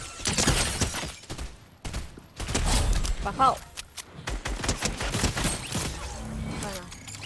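Gunfire rings out in an online multiplayer shooter game, with sharp scattered shots and short bursts mixed with other game noises. Players talk over voice chat throughout.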